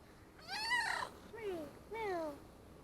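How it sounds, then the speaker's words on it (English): A cat gives three drawn-out meows in a row, close and fairly quiet, each rising then falling in pitch with short pauses between them. "You're a funny cat."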